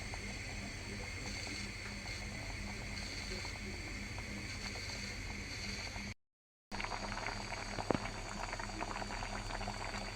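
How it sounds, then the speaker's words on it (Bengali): Rice boiling in a pot in a home kitchen, a steady close bubbling simmer with a constant low rumble, running throughout apart from a brief cut near the middle. "আমার এদিকে ভাতটা বলক এসে গেছে।"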